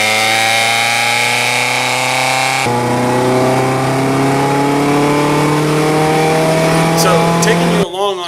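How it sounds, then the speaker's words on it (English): A car fitted with a MagnaFlow performance exhaust drives down the road, its engine droning loudly and steadily with a rising pitch as it accelerates and a gear change partway through, ending in a brief shift of tone. "so that you can hear what it sounds like inside and outside the vehicle while it's going down the road"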